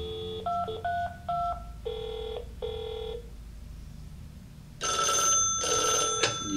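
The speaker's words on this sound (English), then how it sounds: "I called the extension that this is on." A quick series of telephone keypad tones from a Viking Electronics K-1900-5, five short beeps followed by a louder pair of sustained ringing tones, with a faint hum underneath.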